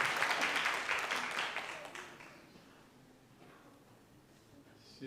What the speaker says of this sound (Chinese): 我们用最热烈的掌声来欢迎他